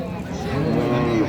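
A Sahiwal cow at the Raniganj cattle market gives one loud, sustained low moo lasting just over a second, close to the listener.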